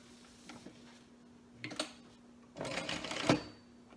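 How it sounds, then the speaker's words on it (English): Sewing machine top stitching an eighth of an inch from fabric edges on a mini quilt, short bursts of quick needle chatter separated by pauses, the longest run near the end, close and moderately quiet. "I'm just going to top stitch 1/8 of an inch away from these edges."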